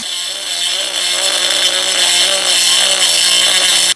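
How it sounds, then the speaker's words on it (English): A Dremel rotary tool cuts through an ATV axle on a Yamaha YFZ450 with a steady, loud, high whine that holds for about four seconds and then stops abruptly. "My Dremel did most of the work, but it got a little too hot, so I had to stop and check it out."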